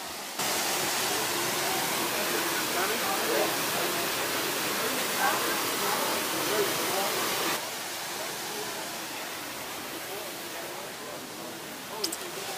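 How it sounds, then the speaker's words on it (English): Waterfall at Scott's Run Nature Preserve, Virginia, a steady broadband rushing hiss heard from nearby, easing slightly quieter partway through, with people talking over it. "That's the waterfall right there."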